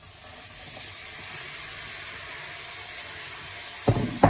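Vegetables are added to a pan of fried onions, with a soft, steady sizzling hiss that ends in a couple of sharp clattering bursts.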